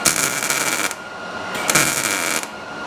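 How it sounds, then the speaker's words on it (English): Overhead welding on the underside of a 1968 Camaro, a steady broadband crackle and hiss in two bursts separated by a short pause, close and fairly loud with no talk. "Welding overhead too."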